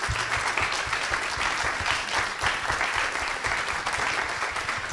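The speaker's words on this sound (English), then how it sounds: "Can we get another round of applause for George?" An audience claps steadily and densely for about five seconds at the close of an evening talk, a broad, even wash of applause with no voices over it.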